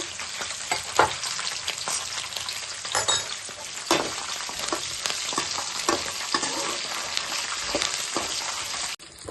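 Green chilies, curry leaves and half a spoon of fenugreek seeds frying in hot oil as a tempering for pulihora, giving a steady, close crackling sizzle with occasional stirring clicks throughout and no voices.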